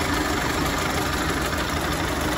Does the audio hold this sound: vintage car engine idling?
yes